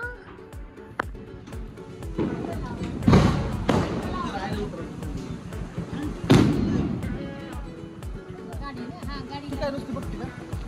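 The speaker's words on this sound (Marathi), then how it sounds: "आपले फटाके उडवले" Diwali firecrackers bursting outdoors at night, with two loud booming blasts a few seconds apart over a dense crackle of smaller pops, while people chatter in the background.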